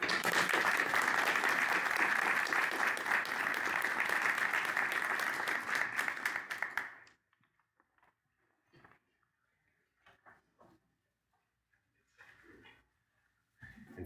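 Audience applause at a school board meeting fills the room as a dense, steady clapping for about seven seconds, then stops abruptly, leaving near silence with a few faint scattered knocks and noises.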